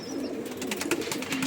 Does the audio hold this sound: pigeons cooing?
yes